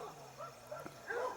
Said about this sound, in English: Please ignore all these, my neighbor's dogs